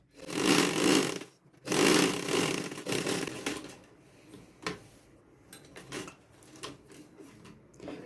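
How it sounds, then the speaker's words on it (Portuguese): A sewing machine stitching fabric strips for a patchwork rug, with two longer bursts of rapid whirring followed by short clicks and handling noises of cloth and parts, close and moderately quiet. "Vamos costurando, observando se elas estão bem alinhadinhas e vamos costurando."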